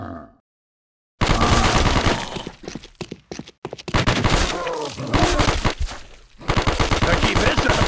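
Rapid automatic gunfire in the Call of Duty Mobile zombies mode, loud dense bursts of shots starting after a brief quiet, then several more sustained volleys with short gaps between them.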